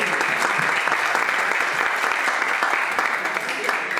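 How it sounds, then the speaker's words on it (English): An audience at a children's Christmas church event in Doncaster claps steadily and warmly in dense, sustained applause that tapers off at the end. "Can we have a round of applause, please?"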